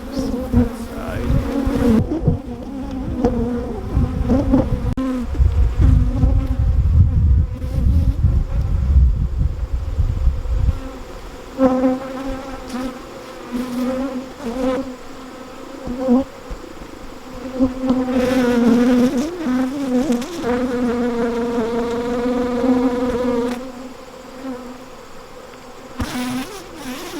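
Honey bees buzz around a horizontal beehive, a dense steady drone of many wings close to the microphone, swelling and thinning as insects pass, with low rumbling handling noise early on.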